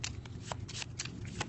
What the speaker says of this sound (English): So we shuffle, we shuffle, we shuffle.